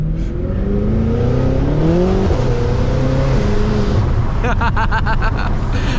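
A stage 2 700hp BMW M5 with a big V8 revs hard on a racetrack, its engine note climbing and falling through rising pitch sweeps, loud and close inside the car, with a rapid popping rattle near the end.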